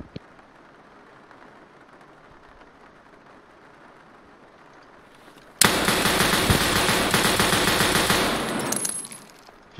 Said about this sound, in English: I just fired 20 rounds at him. They're all from an FN.